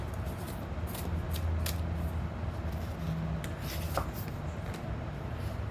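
Tarot cards shuffled by hand in a steady, continuous riffle and rub of card stock, close and moderately loud, with no one speaking.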